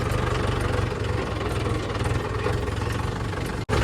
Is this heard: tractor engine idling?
yes